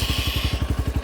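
A TVS Radeon motorcycle engine runs steadily close by, its low exhaust thumping in an even, rapid rhythm with a faint mechanical clatter over it.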